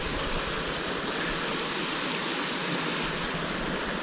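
A moorland stream on Dartmoor rushes steadily nearby, a dense, even wash of flowing water with no pauses and no voices.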